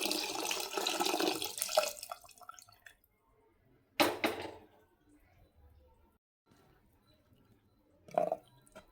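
Water pours steadily for about two seconds into mashed amaranth greens, then a quiet pause broken by a couple of short splashes or clinks nearby.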